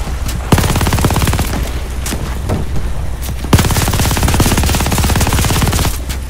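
Heavy rapid-fire gunfire in the Call of Duty Vanguard campaign, two long sustained bursts of automatic shots, loud and close, with a short gap between them.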